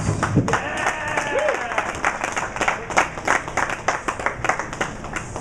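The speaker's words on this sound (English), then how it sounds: "Give her a nice hand." Audience applauding a runner-up at a bowling tournament finals, dense steady clapping that swells and continues, with an announcer's voice speaking over it at the start.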